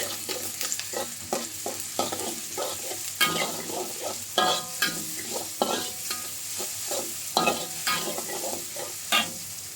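Pounded spice paste sizzles and fries in a pan for martabak, with repeated scraping stirs of a utensil over a steady hiss, close and fairly loud.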